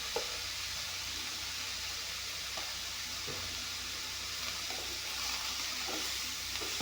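A pan of spices, salt and turmeric, fries gently for a fish curry. A quiet, even sizzle continues throughout, with a few soft clicks and taps from stirring.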